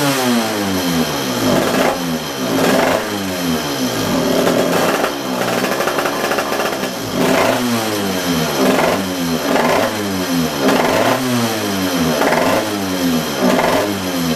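A small two-stroke engine fitted with a 40mm Vortex/Tillotson HB10A carburetor revs hard on a test fire, loud and close, with rhythmic rising and falling bursts of throttle throughout and no voices.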